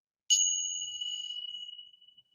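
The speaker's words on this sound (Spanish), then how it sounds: "Las campanillas suenan algo como así." Small meditation chimes struck once, giving a clear bright ring that sustains with two steady tones and slowly fades over about two seconds, alone in a quiet room.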